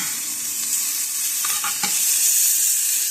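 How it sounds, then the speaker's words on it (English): Breakfast bagel fillings sizzling loudly in a skillet, a constant bright hiss with a few spatula scrapes and presses as the pieces are flipped and flattened, up close with no talking. "I'm going to turn them over and smash them."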